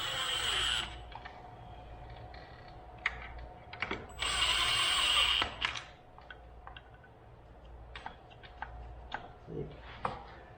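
A Dart 427 motor mount in a Tatum TRX4 is slowly tightened: two short buzzing bursts of a small tool, then scattered light ticks and clicks of hardware being adjusted, up close over a low background hum.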